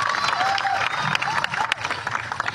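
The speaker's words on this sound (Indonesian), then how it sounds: "Tepuk tangan untuk kita semua" An audience claps and murmurs at a stand-up comedy show in Gunungsitoli on Nias island. The applause is continuous and moderately loud, with crowd voices and a few cheers mixed in.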